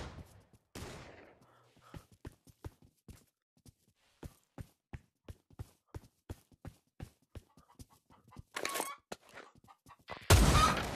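Gunfire from an Uzi submachine gun in Trouble in Terrorist Town: a long run of sharp, evenly spaced single shots, with a few louder bursts of noise and a loud blast near the end.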